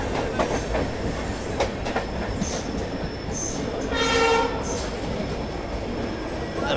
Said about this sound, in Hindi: तो भाई ये सामने आ रही है Mandore superfast express twin EMD के साथ भाई।